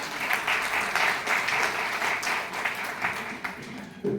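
Loud, sustained applause from an audience at a women workers' conference, with dense clapping that continues steadily for about four seconds before it starts to thin and break up near the end.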